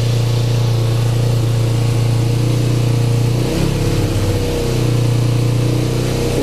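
An old motorcycle engine, unused for twelve years and just started for the first time, idles high and steady at around 4,000 rpm with the choke apparently stuck on, a continuous drone with a brief dip midway and no talk.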